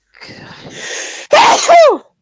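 A single loud human sneeze is heard up close: a breathy build-up of inhaling, then a sharp explosive burst with a falling vocal tail.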